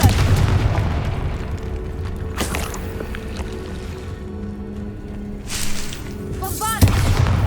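Booming spell explosions from the Hogwarts Legacy video game, with a fire-blasting Confringo curse among them, come as loud bursts around 2.4 s and 6.8 s over a dense, rumbling game soundscape with brief whooshing effects.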